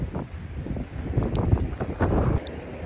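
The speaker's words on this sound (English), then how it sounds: "I'm up here on a cliffside with the wind is kind of whipping a little" Gusty wind whips across an exposed cliffside, a rough low rumble buffeting the microphone in uneven surges with no one talking.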